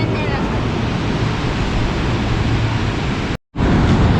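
Sea waves wash onto the shore in a continuous loud rushing roar mixed with wind buffeting the microphone, broken by a brief cut near the end.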